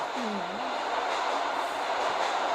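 Subway train in the video game Subway Simulator 3D, running at about 70 km/h through a tunnel, with a loud continuous rumble and rushing roar and a brief wheel squeal near the start.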